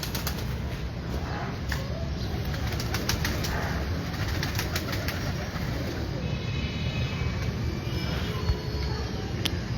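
Ferozpuri pigeons among a loose flock, wings flapping in scattered bursts over steady outdoor background noise, with brief cooing and faint passing traffic.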